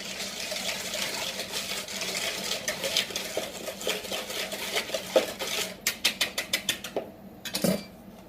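A whisk beating hot milk into egg yolks in a bowl for crème anglaise, a fast rattling clatter against the bowl that turns into distinct rhythmic strokes near the end, close and clear, with no talking.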